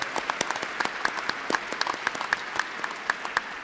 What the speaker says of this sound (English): Please join me in a big round of applause for the United States Institute for Peace for organizing this session on passing the baton.